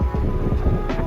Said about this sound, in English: It's kind of a windy day out here, so sorry for the background noise if any.